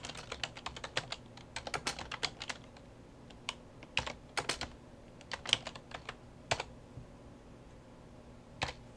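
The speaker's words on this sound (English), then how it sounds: "now when we're typing a reference" Someone types a reference on a computer keyboard, producing quiet, irregular bursts of close key clicks separated by short pauses.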